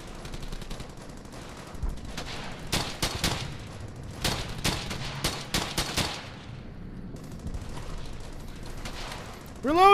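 In the video game Brothers in Arms: Hell's Highway, gunfire breaks out in rapid clustered bursts of sharp, loud shots through the middle of the stretch. Quieter background ambience fills the gaps before and after the volleys.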